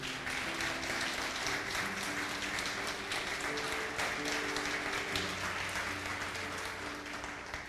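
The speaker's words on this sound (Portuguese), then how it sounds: "Você pode dar um forte aplauso para Jesus?" Congregation at a Portuguese-language church service applauding for Jesus, steady dense clapping sustained throughout with a faint tonal hum of music or organ beneath.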